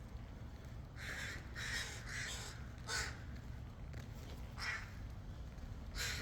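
Two crows caw in a series of harsh, rasping calls, some in quick pairs and others single, fairly close, over faint background hum.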